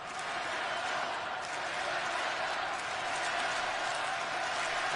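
A hockey arena crowd in Montreal applauds Team Canada, a dense, continuous roar of clapping and cheering that holds loud and even throughout.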